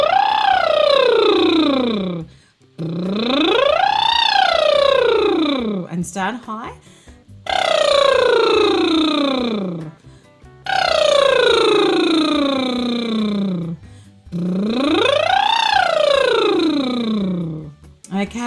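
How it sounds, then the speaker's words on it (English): A singer does a bubbling-lips lip trill as a vocal warm-up, five long sliding phrases that swoop up and back down in pitch, each several seconds long and separated by short pauses; a voice speaks briefly between them. "And now on bubbling lips."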